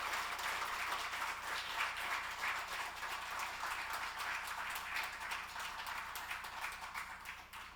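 Audience applause at the 2021 Samsung Ho-Am Prize award ceremony after a musical performance, a dense, even wash of clapping from a large hall crowd, moderately soft and sustained throughout with no talk.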